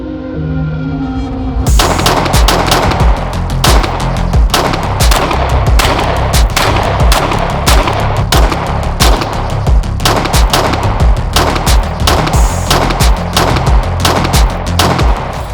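A Lone Wolf Dusk 19R pistol fires at an outdoor range, sharp loud shots coming in rapid irregular strings one after another with brief gaps, no talking.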